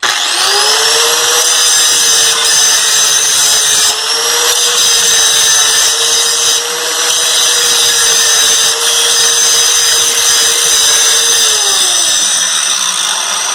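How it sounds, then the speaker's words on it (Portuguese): An angle grinder fitted with a grinding disc works metal with a loud, steady high-pitched whine and abrasive hiss, its pitch holding even for most of the run before dipping as the tool winds down near the end. "sempre use o óculos de segurança para trabalhar com a esmerilhadeira, seja no disco de corte ou no disco de desbaste"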